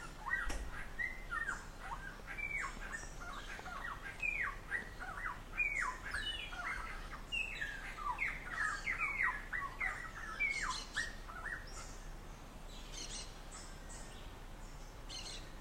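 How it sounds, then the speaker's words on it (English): Outdoor birds squawk and chirp in a busy, overlapping chorus of short calls that carries on throughout, moderately distant over a soft background hiss. "Now I want to be with the birds."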